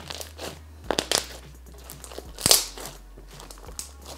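Slime mixed with pet food, crinkling and clicking as it is kneaded by hand, giving a quiet run of sharp crackles and crunchy pops with a couple of louder snaps.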